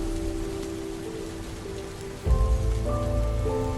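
Steady rain pattering on a surface, continuous and fairly close, with a low droning tone underneath that swells partway through.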